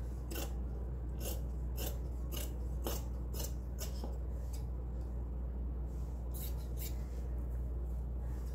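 Scissors cut through blouse fabric for a 36-inch katori blouse in a string of crisp, close snips and rasps, separated by short pauses, over a faint steady hum.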